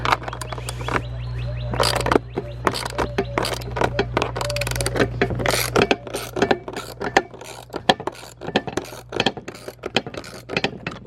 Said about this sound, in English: let's just see what happens if I ratchet it down to the point of no return